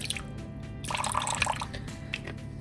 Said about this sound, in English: I'm gonna put a couple of tablespoons of vinegar.